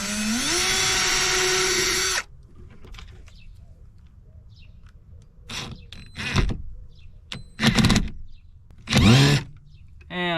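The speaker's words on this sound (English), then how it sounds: "I'll do some pilot holes because I don't want to it to split when I put the screws in." A power drill bores pilot holes for screws while a 12V light is fitted in a camper van, a loud steady whirring burst rising in pitch for two seconds, followed by quiet, then several short tool noises and handling sounds.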